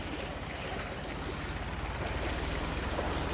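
Floodwater about two feet deep fills a street on Piple Road in Vijayawada and rushes in a continuous, dense roar with a steady churning wash and no voices.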